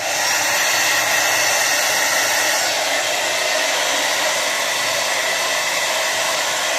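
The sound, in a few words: blow dryer drying mustache hair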